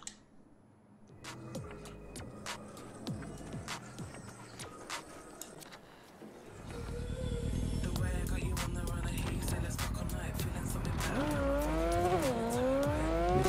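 A motorbike engine in a video game hums at a moderate level, then rises louder and steadier as the bike speeds up, with whining rev changes near the end.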